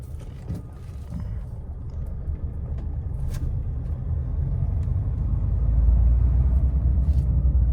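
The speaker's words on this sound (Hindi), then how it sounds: "अब मैं इसको करता हूँ स्टार्ट। ओके, अब गाड़ी हो चुकी है स्टार्ट।" A Mahindra Thar Roxx SUV engine runs just after starting, a close, steady low rumble that grows slightly heavier toward the end, with faint clicks and rattles over it.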